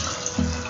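A glass of water poured into a pressure cooker holding peas and washed, chopped potatoes for Odisha street-style aloo matar chaat, a brief close splash standing out over a steady background hiss.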